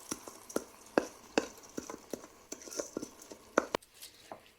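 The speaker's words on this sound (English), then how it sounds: "giving it a thorough stir to ensure even distribution" Lentils, soaked rice and spices stirred in a pot for yellow khichdi, heard as a series of sharp spoon clinks and scrapes in an irregular rhythm, fairly close and moderately quiet.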